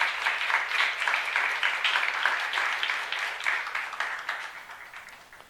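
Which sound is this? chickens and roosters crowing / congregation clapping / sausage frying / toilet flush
congregation clapping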